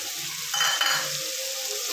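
Beaten yogurt stirred into spiced katla fish frying in a pan gives a soft steady sizzle, with a brief louder burst of hissing and clinks as it goes in.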